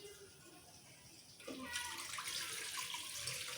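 Water runs from a tap while rice is washed for chicken biryani: a quiet start, then a sudden stronger rush of splashing flow partway through that continues steadily to the end.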